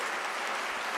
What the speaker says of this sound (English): Top 800 university, I think that deserves an applause.